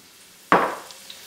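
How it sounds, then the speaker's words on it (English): Chopped onion drops into hot vegetable oil over medium heat and gives one sudden sizzling burst that fades quickly into a quiet hiss, close by. "when the oil gets hot, add the onion."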